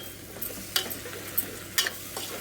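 Cucumber and green chillies fry in a pan with a steady close sizzle, punctuated by a few sharp clinks and scrapes of a spoon stirring.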